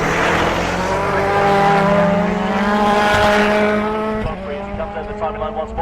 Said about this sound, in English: 72 of Tristan Ovenden, who is just coming up the top of Hairy Hill into the hairpin bend